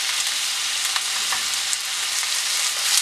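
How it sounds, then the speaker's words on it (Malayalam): Onions, green chilies and curry leaves sautéed in a pan for a crab roast produce a constant, fairly loud frying sizzle with faint intermittent stirring scrapes, heard alone without any talking. "ഇനി നമുക്ക് നല്ലതുപോലെ ഒന്ന് വഴറ്റിയെടുക്കാം."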